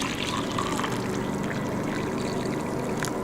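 Water pouring at a campsite in Ohiopyle State Park, a steady close splashing wash running unbroken for a few seconds.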